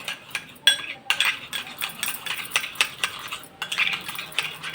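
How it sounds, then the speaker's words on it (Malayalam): Spoon clinking and scraping around a bowl while stirring a mixture with yogurt, with quick irregular taps and scrapes at close range and no talk. "നന്നായിട്ട് മിക്സ് ചെയ്യണം കേട്ടോ."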